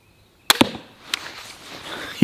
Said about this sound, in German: Jetzt schießen wir noch auf die zweite Zielscheibe nebenbei, die Steamboat-Zielscheibe.